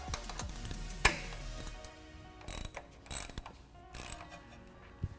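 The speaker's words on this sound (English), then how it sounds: "I can get on it with a ratchet and get it tightened down" A ratchet drives a 7/32 Allen key bit to tighten a bump stop bolt, giving several close, separate bursts of metallic clicking with short pauses between them.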